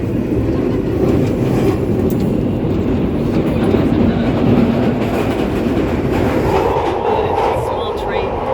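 A London Underground tube train rumbles along steadily with rattling, clattering wheels and a continuous low roar, loud and close throughout.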